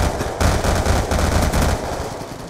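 Rapid automatic gunfire in a Black Ops 2.5 mod match on the Nuketown map, a loud, sustained stream of shots with no break for the whole moment.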